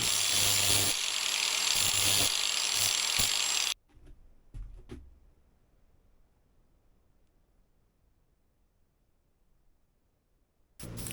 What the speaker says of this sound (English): Now I'm going to hit both sides with a flap disc so I can smooth everything out